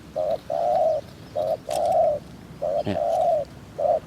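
Spotted dove cooing in a repeated phrased pattern, several short and long coos with brief pauses, fairly close and clear, no talking.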